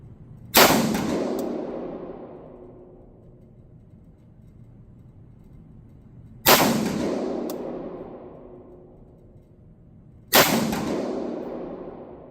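Three loud, sharp rifle shots from a Cru Arms TEMP556 piston-driven rifle chambered in .22 caliber, spaced several seconds apart outdoors, each crack followed by a long fading echo with no talking.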